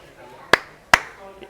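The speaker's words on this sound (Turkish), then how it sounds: "İki kere el çırpma ve duamızı ediyoruz." Two sharp ritual hand claps at a Japanese shrine, close and crisp, spaced about half a second apart against a quiet background.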